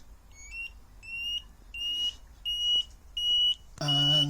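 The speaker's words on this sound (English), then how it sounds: "the delayed beeper coming on. So hopefully that'll stop me leaving them on" A delayed indicator warning beeper on a Royal Enfield Guerrilla 450 motorcycle chirps in a steady series of short, clear electronic beeps, close and fairly loud, before a brief harsher buzzing tone at the end.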